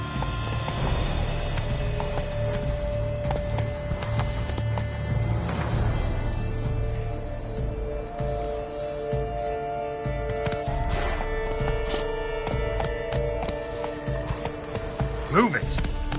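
The horse Roach carrying its rider in The Witcher 3, a steady run of hoofbeats with an occasional snort or whinny amid game music and ambience, and speech heard over them.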